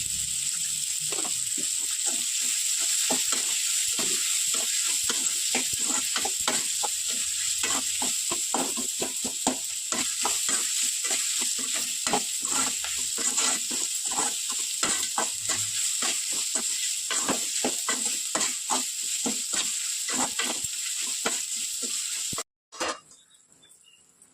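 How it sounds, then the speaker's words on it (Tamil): Chopped onions with salt sauté in a pan, giving a steady loud sizzle with frequent scraping stir strokes throughout, then a brief clatter as it ends. No one speaks. "இது வதங்கிறதுக்கு கொஞ்சம் உப்பு போட்டுக்கலாம். கொஞ்சம் சீக்கிரம் வதங்கிடும்."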